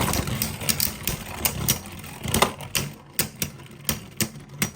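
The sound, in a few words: Beyblade Vex Lucius spinning tops battling in stadium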